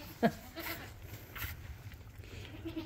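A goat gives one short, faint bleat early on during the birth of a buckling, with an older doe helping her daughter deliver; low, quiet barn ambience follows.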